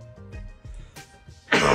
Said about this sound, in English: my coughs just ruining everything